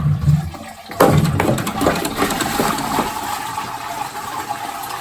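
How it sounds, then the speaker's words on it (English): A toilet fitted with a Dudley Turbo Duoflush lever siphon flushes, a sudden rush of water that churns loudly and then eases into a draining, refilling gurgle, heard close up with no talking. "But we're gonna try and give it a flush."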